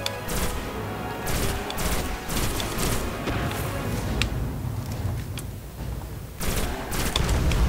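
Dense, continuous gunfire rattles through a firefight in the video game Destiny, with rapid bursts and sharper individual shots over a loud, busy game mix.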